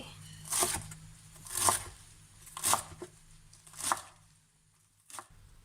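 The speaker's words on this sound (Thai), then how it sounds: "เดี๋ยวจะหั่น ให้มันเล็กสักหน่อย" A knife chops garlic on a cutting board in slow, evenly spaced strokes, five crisp taps about a second apart in a quiet room.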